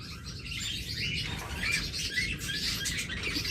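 Pet birds kept in cages for sale chirp and tweet in a lively, overlapping chorus of quick high calls close by, with soft rustling underneath.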